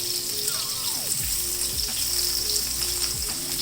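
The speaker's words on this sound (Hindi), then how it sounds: "अब फिर इसकी साइड चेंज कर लेती हूँ और हल्की आग पे हम इसको फ्राई कर लेंगे।" Garlic cheese paratha frying in ghee on low heat gives a continuous dense sizzle close by, with a few sliding, swooping tones over it and no talking.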